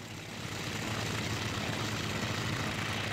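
Propeller airplane taking off in the IL-2 Sturmovik combat flight game, its engine a steady, loud, dense roar with a low droning hum and no break in level.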